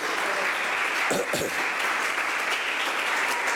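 A church congregation at a sermon breaks into steady, sustained applause, a dense wash of clapping with a brief voice or cheer near the middle.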